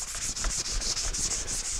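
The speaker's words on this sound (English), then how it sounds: "I'll take some sandpaper, we'll sand it down" Sandpaper worked by hand over rusty metal in a home shop, a steady close hiss repeating in quick back-and-forth strokes with no pauses and no talk.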